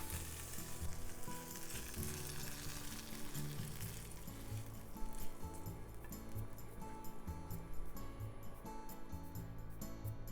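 Sausage browning in a frying pan, a soft, continuous sizzle and crackle with occasional stirring scrapes, close but fairly quiet, with no talking.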